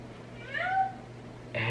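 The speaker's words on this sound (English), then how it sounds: "Meow meow." A single drawn-out cat meow rising and falling, close and clear over a low steady hum, followed by a brief noise burst.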